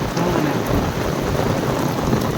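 Steady, dense rain pours without a break, a broadband hiss of drops on surfaces that stays loud and even throughout; no distinct thunder clap stands out.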